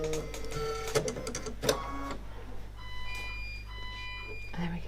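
A Brother Luminaire Innovis XP1 embroidery machine running its thread trimmer, a close mechanical whirring and clicking followed by a few electronic beeps over a steady motor hum, with speech partly present.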